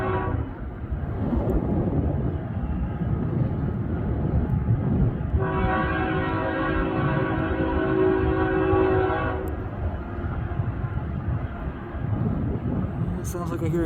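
CN manifest freight train rolling past at Ladysmith with a Tier 4 locomotive in the consist, a steady rumble of wheels and cars throughout and a long sustained horn blast in the middle, no talking.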